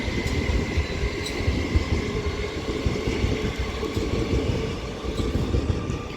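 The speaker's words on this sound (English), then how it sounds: "departing behind me is a Great Western Railway Class 387 for London Paddington" A Great Western Railway Class 387 electric train departs Reading station for London Paddington, its steady rumble and wheel noise rolling on continuously and fairly close, with no voices.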